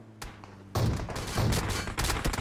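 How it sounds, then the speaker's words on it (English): Rapid gunfire from an enemy player in PUBG Mobile, a dense fusillade of shots that starts after a quiet moment and keeps rattling close and loud with little break. "He's shooting at us."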